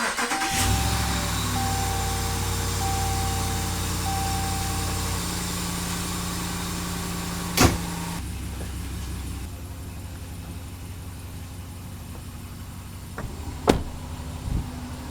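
A RAM 1500 pickup with the 5.7 HEMI V8 cranks and starts after a spark plug change, then settles into a smooth, steady idle up close, with a couple of sharp clicks or thumps later on.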